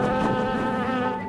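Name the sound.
swarm of killer bees buzzing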